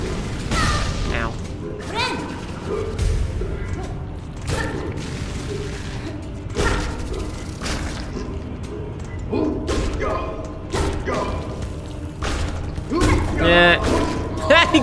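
Explosion bursts and heavy thuds in the Hollow Knight: Silksong video game, in a forge area of the deep docks: several loud, broadband booms land at irregular intervals over a busy bed of mechanical clanks and game effects.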